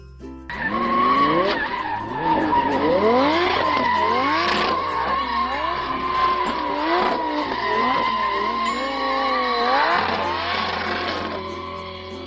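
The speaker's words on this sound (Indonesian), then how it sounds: "Wih, ternyata ada mobil balap teman-teman." Toy race car sounds, a continuous loud run of screeching tire-squeal and skidding swoops with revving engine tones, alone without talk.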